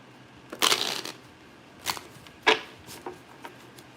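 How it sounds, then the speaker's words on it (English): A tarot card deck is shuffled in a few short, close riffling bursts separated by brief pauses, crisp and quiet against a silent background. "Shuffle cards."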